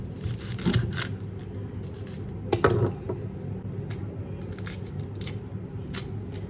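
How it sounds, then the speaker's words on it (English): A knife cutting up an onion on a board in a home kitchen: irregular soft chops and scraping taps, quiet over steady background hum. "I'm going to cut up my onion."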